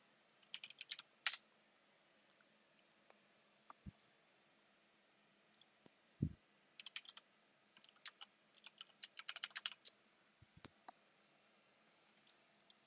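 Typing on a computer keyboard, faint scattered clusters of quick key clicks with irregular pauses between bursts, close and quiet with no talking.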